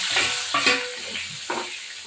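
Tomato, ginger, cumin, pepper, sugar and salt hit hot oil and sizzle, a loud close hiss with a few soft knocks as the ingredients land.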